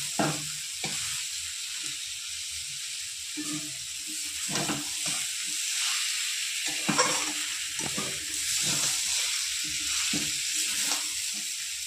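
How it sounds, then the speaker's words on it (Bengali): Fried soybean chunks and potatoes with spices are sautéed in a pan, giving a steady close sizzle broken by repeated spatula scrapes and stirring knocks at an uneven rhythm, with no talking. "ভেজে রাখা সোয়াবিন আর আলু দিয়ে 5-10 মিনিট আমি একটু কষিয়ে নেব"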